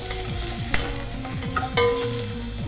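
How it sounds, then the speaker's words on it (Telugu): Cumin seeds and onions splutter in hot oil, giving a loud, dense sizzle with sharp crackles, while a low rhythmic droning hum runs beneath. "మనకి ఆల్రెడీ చిట్పట్లు ఆడుతున్నాయి"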